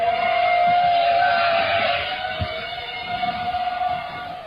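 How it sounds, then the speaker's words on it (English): A steady droning hum with a sustained whining tone, loud at first then easing slightly, like buzzing machines overhead; no talking. "then you will hear the hum of drones in the sky"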